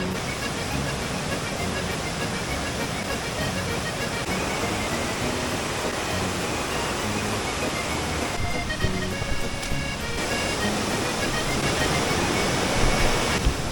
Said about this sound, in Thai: น้ำตก